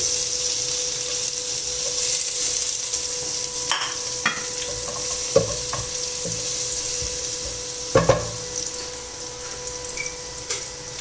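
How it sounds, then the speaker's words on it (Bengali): Garlic fries lightly in a pan as the first step of a Thai clear soup, a soft steady sizzle with a few louder stirring scrapes and clinks over it, heard close with no talking. "গার্লিকটা দিয়ে দেবে, একটু হালকা একটু ভেজে নেব"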